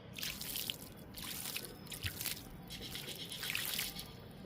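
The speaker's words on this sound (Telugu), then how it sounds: "ఇంకా వాటర్ ఇస్తున్నానండి మల్లె మొక్కకి" Water trickles and splashes onto the soil of a small potted jasmine plant, a close, steady wet pattering with no voices.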